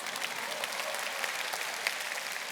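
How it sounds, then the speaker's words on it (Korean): Audience applause at a Korean church youth prayer rally, a steady dense clatter of many hands clapping, fairly distant and even throughout, with no voices over it. "그렇다고 박수까지 치면 어떡해."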